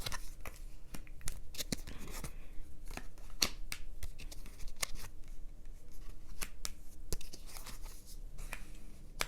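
Tarot cards being shuffled, a steady run of crisp riffling and flicking snaps close to the mic, continuing throughout with no talk.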